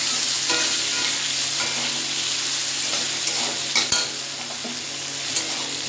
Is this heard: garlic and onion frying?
yes